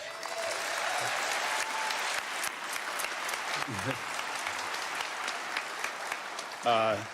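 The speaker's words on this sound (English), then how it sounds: "My team who is with me right here, they get a round of applause." A live audience claps in steady, moderately distant applause at a public event, continuing for several seconds before a voice briefly breaks in at the end.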